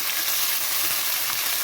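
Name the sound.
yardlong beans added to prawns frying in pan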